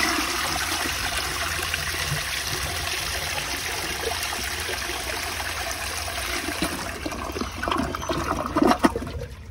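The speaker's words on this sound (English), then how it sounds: "I'm going to do this on two different types of flushes, on the regular swirly and the straight down. Start off with the swirly." An American Standard Cadet space saver toilet gives a swirl flush, a loud, steady rush of water that runs the whole time and ends in a gurgling drain.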